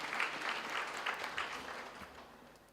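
Quiet, distant applause from a university graduation ceremony audience, a soft patter of clapping in a large venue that fades out over a few seconds.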